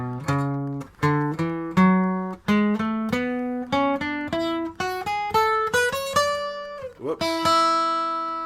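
Guitar playing the traditional Western Do-Re-Mi major scale, single notes climbing one after another in a steady rising sequence, clear and close with no talking.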